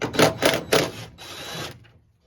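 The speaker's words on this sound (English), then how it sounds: "Remove these two bolts using a T30 Torx bit." Power driver with a T30 Torx bit backing out tailgate bolts on a 2008 Toyota Tundra: three short close whirring bursts followed by one longer run, then quiet.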